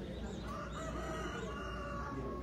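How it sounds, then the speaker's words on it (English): A rooster crows in the background at a chicken festival, a drawn-out call carried over steady low room noise. "I heard a rooster."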